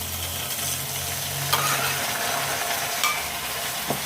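Tomatoes stirred in a hot frying pan, with a steady sizzle broken by a few sharp scrapes and clicks of a utensil against the pan. No voices.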